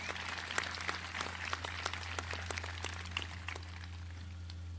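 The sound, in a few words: audience applause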